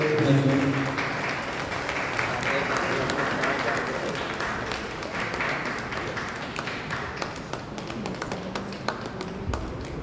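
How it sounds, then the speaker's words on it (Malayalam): Sustained audience applause at a state annual anti-alcohol committee conference award ceremony, dense steady clapping throughout from a crowd indoors. "നമുക്ക് കൈയടിച്ച് അവരെ"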